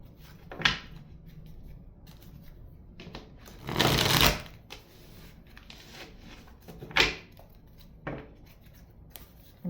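Cards are shuffled in several separate bursts, a long riffle in the middle and shorter flicks around it, close and fairly quiet.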